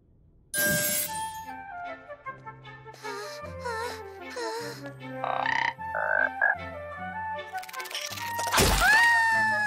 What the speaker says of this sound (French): La jolie grenouille!